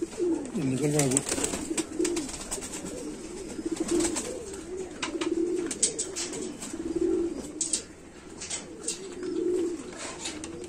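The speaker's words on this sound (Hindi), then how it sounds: "कबूतर की खूबसूरती देखिए।" Sheikho pigeons with a light Chanda Khani bloodline coo steadily at close range, a series of soft rolling coos repeating every second or two, with faint talking in the background.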